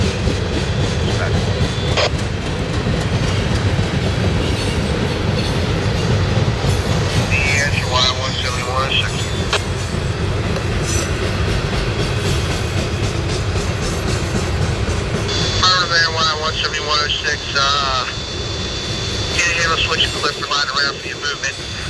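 A CSX trash train hauled by a single engine rolls east past the Jessup Yard, a loud continuous rumble with rail clatter throughout, while radio voices talk over it intermittently.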